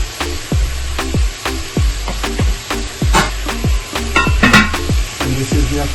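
Potatoes and carrots cooking in a pot for a Jamaican-style curry beef meal, a steady sizzle broken by rhythmic spoon knocks and scraping against the pot, loud and close, with no voices.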